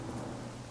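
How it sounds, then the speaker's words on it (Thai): Rain falls steadily with a low rumble of thunder in the game Days Gone, a brief, soft, constant hiss with no voices. "ฝนตกด้วย"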